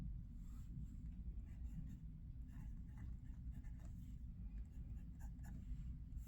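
A fountain pen with a medium nib writing on paper, soft scratchy strokes under a steady low background hum, close and faint.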